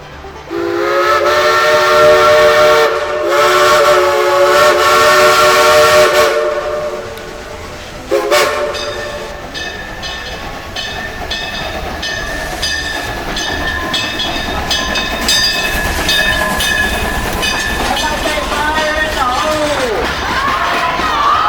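Heritage train on the Branson railroad passing by, its whistle blowing in long tonal blasts, then steady rumbling and clanking of the railcars as it rolls past at moderate distance, with some talk in the background.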